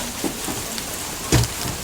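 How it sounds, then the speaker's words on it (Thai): Rain falling outdoors, a steady soft hiss of drops on surfaces with a brief louder patter burst near the end, no voices. "ฝนตกแล้วฮะ"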